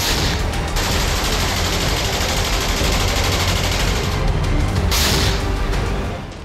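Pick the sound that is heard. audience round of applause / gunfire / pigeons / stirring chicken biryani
gunfire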